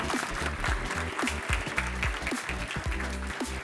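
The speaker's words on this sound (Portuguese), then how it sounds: "Uma salva de palmas, pessoal." An audience applauds at the Zabbix Conference Latam 2023, a continuous wash of clapping mixed with low rumbling room noise and some murmuring, steady across the short span.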